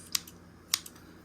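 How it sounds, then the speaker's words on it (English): Scissors snip threads off sewn suede in two sharp, close clicks set apart by a short pause, with a lighter tick between, against a quiet room and no speech. "Let's cut some of these threads off."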